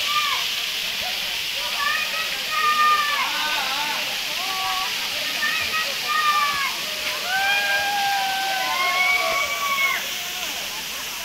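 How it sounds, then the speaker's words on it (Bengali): Hadhadwa waterfall near Gaya, with people bathing, gives a steady, loud broadband rush of falling water that runs unbroken throughout, while high, bending, chirp-like calls rise and fall over it. "দেখতে চাইছি যে ওয়াটারফলটা কোনখান থেকে আসছে, সেটাই আমি দেখাতে চাইছি আপনাদের"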